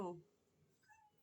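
A stray cat gives a short, loud meow right at the start, then a fainter high tonal call follows about a second later against a quiet background.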